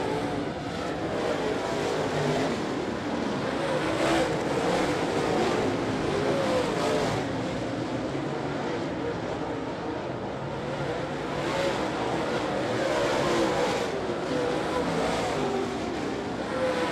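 Super late model stock cars race around the Ponderosa Speedway oval during a heat, engines roaring and swelling as the pack passes, fairly distant and steady for the whole stretch, with a commentator's voice faintly under the noise.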